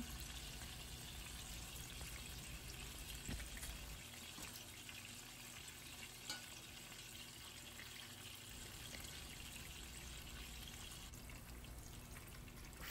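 Fish shallow-fries in oil for a Kerala fish masala, making a faint, steady hissing sizzle that runs on evenly throughout, with a few soft pops and no talking.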